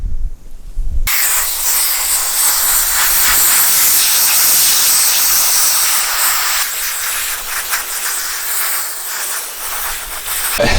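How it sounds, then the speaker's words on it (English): Pressure sprayer blasting outdoors in cold, windy weather while cleaning car parts, a loud continuous hiss starting abruptly after a brief pause and sustained with slight fluctuations, close by and without talking. "gonna give it a quick spray and see how she works"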